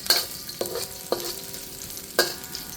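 Ginger and garlic fry in hot oil while being stirred, giving a steady sizzle broken by a few sharp scraping stir strokes, close and moderately loud with no talking.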